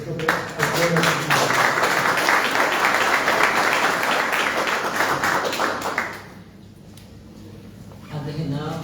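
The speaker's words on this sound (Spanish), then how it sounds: "pido un fuerte aplauso para nuestro autor" Warm applause from an audience at a parish book presentation fills the room for about six seconds, steady and fairly loud, then fades out before a voice begins speaking.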